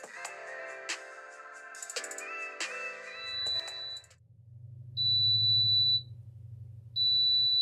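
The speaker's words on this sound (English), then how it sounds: "The oven has beeped, indicating that the tumbler is ready." A PYD Life mini sublimation oven sounds a steady, high beep in three long pulses once the tumbler is ready, following clattering handling noises and a low hum.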